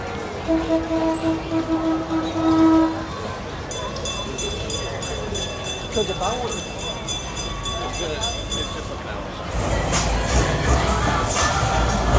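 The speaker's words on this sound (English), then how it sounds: "They even have a train going through here." A train rumbles past near a Florida beach with a long horn blast, wheels clattering steadily before the noise swells louder toward the end; a voice talks briefly early on.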